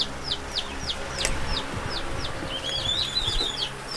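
High, rising chirps from baby turkeys and young chicks repeat steadily over a noisy outdoor background, with a run of quicker peeps near the end.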